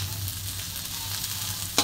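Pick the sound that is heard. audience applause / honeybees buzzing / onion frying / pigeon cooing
onion frying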